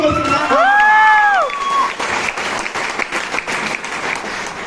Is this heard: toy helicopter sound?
no